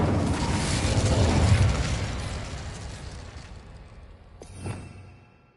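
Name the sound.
Incendio fire spell cast, from the video game Hogwarts Legacy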